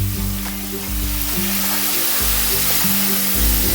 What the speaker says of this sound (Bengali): লঙ্কাটা দেওয়ার পরেও খুব ভালো করে আমি আরও কষিয়ে নেব তেল ছেড়ে দেবে মশলার গা দিয়ে